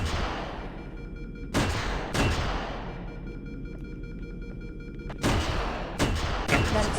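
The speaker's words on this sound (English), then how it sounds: "That explosion came from inside." Explosions and gunfire in the Halo SPV3 video game: several sharp booming blasts at irregular intervals, each with a long rumbling decay, over a constant low background drone.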